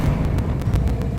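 Bombarda and Confringo explosive spells cast in the Hogwarts Legacy video game, a loud continuous low rumbling roar with a rapid series of short bursts pulsing through it.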